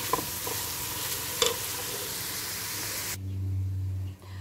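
Veal and onions fry for goulash in a pan with a loud, close sizzle while a utensil stirs and scrapes, then the frying stops abruptly, leaving a low hum.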